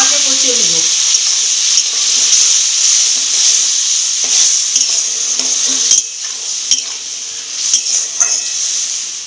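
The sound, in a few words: frying and stirring spice paste with water in a pan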